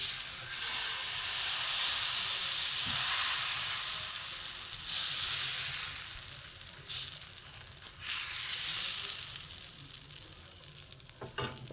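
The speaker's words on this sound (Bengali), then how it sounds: "এটা এপিট ওপিট করে ভাজা হয়ে গেছে।" A potato roll fries in a hot oiled pan, giving a steady bright sizzle and hiss that swells and eases as the roll is pressed and turned, with a few soft scrapes from a spatula.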